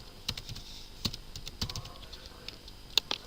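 Keys tapped on a computer keyboard in irregular clusters of light clicks, close and clear, with a few sharper strokes near the end and no talk over them.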